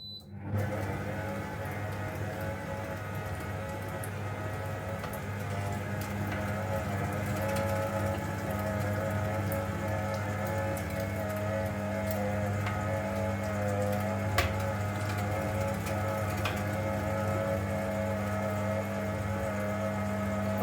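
A Beko Homechef food processor grinds fatty, partly frozen meat into mince, its motor running as a steady, close mechanical drone with a constant hum for the whole stretch, no voices over it.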